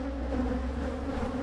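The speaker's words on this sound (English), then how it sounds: "a whole bunch of bees" Honey bees hum in a nucleus colony hive being installed in Barbados, a steady, close, continuous buzz that fills the whole moment with no talking.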